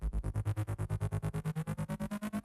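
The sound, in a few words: synthesizer patch playing a 16th-note movement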